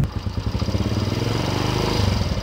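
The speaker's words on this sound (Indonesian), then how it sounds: "Nah tuh, denger aja. Suara mesinnya masih halus banget kan?" A motorcycle engine idles smoothly and close by, its low, regular thumping pulse steady and unbroken throughout, with no talk over it.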